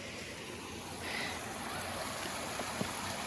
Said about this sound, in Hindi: बहते हुए जो है इस पुल के नीचे से जो है ये पानी जा रहा है